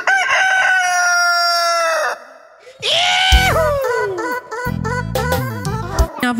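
A rooster crows loudly and close by in several long, wavering calls, one after another, with other sharp fowl cries breaking in toward the end.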